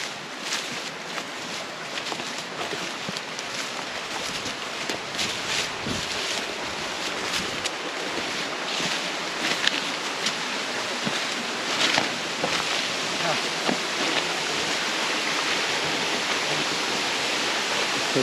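A steady broadband rush of flowing river water, constant and fairly close, with no talking.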